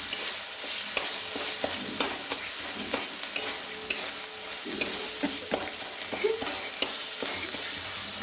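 Spices, including shahi garam masala, frying in a pan for chana masala, with a steady close sizzle and regular scraping stir strokes about once a second.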